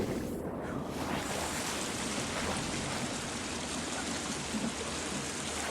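Flowing water in the survival video game The Forest, a steady broadband wash of rushing or splashing water that holds at an even level throughout with no talk over it.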